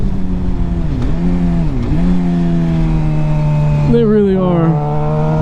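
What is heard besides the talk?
Suzuki GSXR600 motorcycle engine revving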